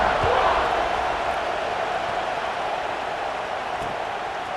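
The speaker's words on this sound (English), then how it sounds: "this crowd now ready to get behind them" Stadium crowd roaring steadily at kickoff in the college football video game EA Sports College Football 26, a dense, continuous wash of cheering that stays loud throughout with no distinct voices standing out.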